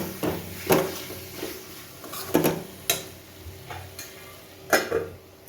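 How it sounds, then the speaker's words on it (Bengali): Boiled eggs stirred and fried in spice masala with sugar for egg malai curry, a spatula scraping and knocking in the pan in scattered bursts over a faint sizzle, with no talk. "ডিমগুলোও দিয়ে দিচ্ছি দিয়ে এবার একটু ভালো করে আমি কষিয়ে নেব"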